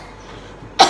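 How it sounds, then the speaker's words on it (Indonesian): A single short cough near the end, close and fairly loud, following a near-silent lead-in. "Nah, aku batuk ya"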